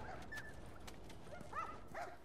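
A dog in The Last of Us Remastered gives faint, short yips and whining cries, a few scattered high calls over a low background hum, with no talking.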